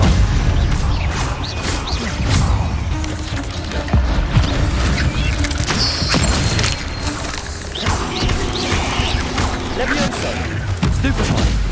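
Hogwarts Legacy combat: spells and thuds burst out again and again over dense, loud game noise with crashes and booms, while a voice speaks over the action throughout.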